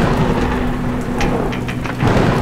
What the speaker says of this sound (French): Il commence à avoir des bruits d'orage, ça sent pas bon